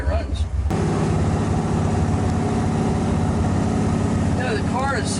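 A 1969 Chevrolet Camaro in Yenko style, its engine starting with a clunk and then running in a steady, loud, low rumble that holds throughout, with a faint voice near the end.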